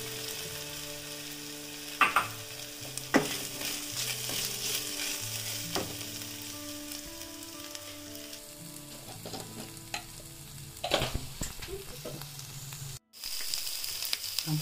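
Minced meat (kheema) sizzles steadily in a hot pan with fried ginger and garlic, with occasional scraping and clatter from stirring, close and continuous.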